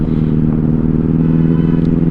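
Benelli 600i motorcycle riding at night, a steady close engine drone with a strong low hum and faint clatter, running evenly throughout with no voices.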